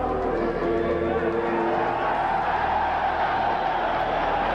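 British fans fill a boxing arena with a dense, steady roar of crowd noise, loud and continuous throughout with no clear breaks.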